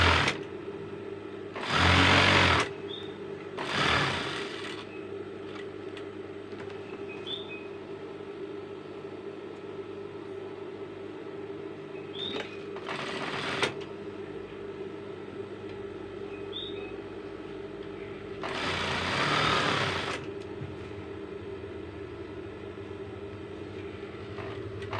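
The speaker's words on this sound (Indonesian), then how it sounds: "Keliling, jahit tindes 2 cm keliling." A sewing machine topstitches 2 cm in from the edge around a pillowcase. Several separate bursts of machine stitching run for one to two seconds each, with quiet pauses between them.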